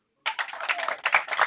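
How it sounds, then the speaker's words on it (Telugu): An audience at a movie title launch event breaks into applause after a brief silence, a dense crackle of many hands clapping at moderate volume. "చప్పట్లు కొట్టండి"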